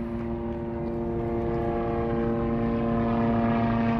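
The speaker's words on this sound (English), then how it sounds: "So this helicopter is coming right towards us. Oh, man. It's going to fly right over us." Police helicopter flying low overhead near the Chicago lakefront, a steady droning engine whine with strong tonal hum that grows slightly louder as it approaches, no voices present.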